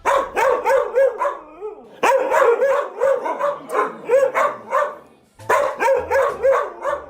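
A dog barks repeatedly in quick bursts, loud and close, with brief gaps between series of barks.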